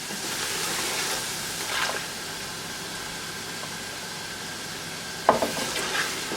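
Tomatoes tipped into a sizzling masala for chicken masala curry and stirred, with a steady fry hiss, a couple of scraping stir strokes and a sharp clatter near the end.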